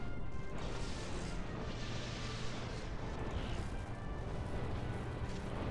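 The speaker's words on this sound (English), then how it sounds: "Fire the missiles!" Missiles fire in Planetary Annihilation, a real-time strategy game, forming a dense, continuous roar of crashing blasts and rumbling explosions that layers over itself steadily for several seconds without pause.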